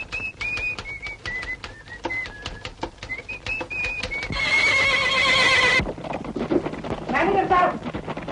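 Hooves clip-clop in a quick, even rhythm, then a horse lets out one long, loud whinny, followed by more noisy movement, in a scene from the 1964 Hindi film Ziddi.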